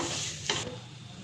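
Red chilli, salt and cumin spices frying in oil for an aloo dish, a steady close sizzle with a brief scrape of stirring midway, no voices.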